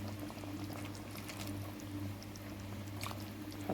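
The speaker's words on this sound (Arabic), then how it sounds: "حطيت كده 3 كبشات شوربه." Ladles of broth poured into a pan of okra tagine with garlic, a soft liquid splashing and sizzle over a low steady hum, quiet and close, with scattered small splashes.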